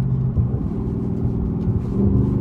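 A catless Chrysler 300 SRT engine rumbles loudly and steadily on downshifts at night, a deep continuous drone heard from inside the car without clear distinct rev spikes, with no talk.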